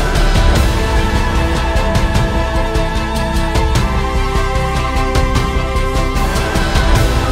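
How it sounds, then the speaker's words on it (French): Epic orchestral film score built in Ableton Live 10, with choir voices layered over it. The mix stays dense and loud throughout, with steady rhythmic hits and sustained harmonies and no speech. "mélangé à l'autre voix qu'on enregistrait juste avant, ça donne quelque chose comme ça."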